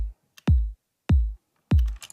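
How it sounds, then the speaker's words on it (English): Deep electronic kick drum programmed in Ableton in a steady four-on-the-floor verse pattern with light filtering; three loud, evenly spaced booming thumps with quick pitch drops, heard alone with no talking. "So this is the kick that's going on in the verses, just kind of a 4 on the floor pattern"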